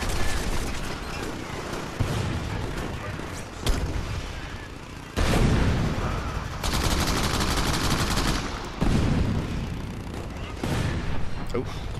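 Combat in the video game Crackdown with enemies throwing grenades, heard as continuous gunfire and repeated blasts and bursts, with a voice talking over the noise.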